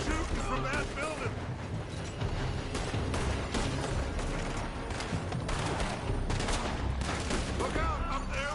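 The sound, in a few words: gunfire from a building in video game Red Dead Redemption 2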